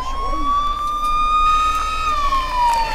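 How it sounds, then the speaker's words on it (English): A police siren from the Brick Rigs video game wails loudly and steadily on its own, with a single tone that slowly rises and then falls. "In the description, it says no police sirens"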